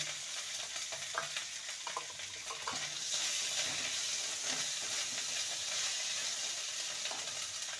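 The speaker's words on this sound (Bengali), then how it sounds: "এবার দিয়ে দেবো একটা মিডিয়াম সাইজের টমেটো কুচি" Chopped medium tomato dropped into a pan of hot oil with ginger and garlic, giving a loud continuous sizzle with intermittent stirring scrapes that grows fuller partway through.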